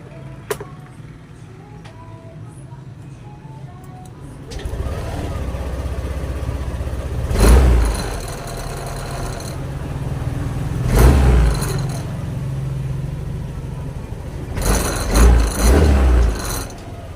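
A Yamaha Aerox scooter engine, its throttle body and injector freshly cleaned, cranks and catches at about four seconds, then idles steadily with three sharp revs, each swelling and dropping back to idle.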